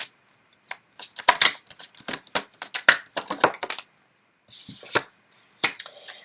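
Tarot cards are shuffled by hand in close, crisp bursts of riffling and snapping card slaps, pausing briefly before a final flurry.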